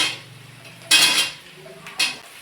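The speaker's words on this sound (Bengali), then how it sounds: "এবার আলুটা দিয়ে দেবো।" Chunks of potato tipped into a frying pan of lightly fried chopped onion, for a Bengali cabbage dish, land in two sharp clattering bursts with a softer scrape between, close and loud, no talking.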